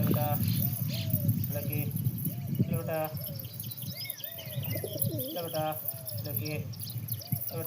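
Pigeons coo steadily while smaller birds chirp and tweet throughout, with a voice faintly underneath the busy birdsong.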